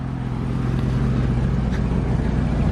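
A Yamaha R6 sport motorcycle engine runs loud and steady, a dense continuous roar heard up close throughout.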